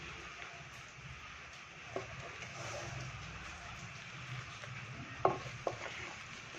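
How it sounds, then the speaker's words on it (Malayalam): Boiled tapioca from Idukki is stirred in a pot with a spatula, giving soft, faint scraping and a few sharp clicks against the metal over a low, steady background. "ഇതിൻ്റെ ഈ വശം വെച്ചിട്ട് നന്നായിട്ട് ഇളക്കിയെടുക്കണം നമുക്കിനി ഇളക്കിയെടുക്കാം"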